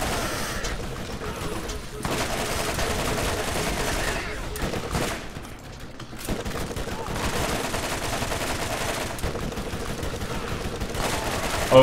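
Dense gunfire from enemies in the video game Borderlands, a steady barrage of overlapping shots and explosions that continues for most of the stretch, with a brief lull partway through.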